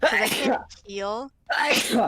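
A single short, voiced sneeze bursts out between stretches of people talking.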